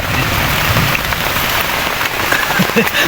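Heavy rain pours steadily during a storm deep in a forest, a dense, continuous hiss close by and loud from start to finish.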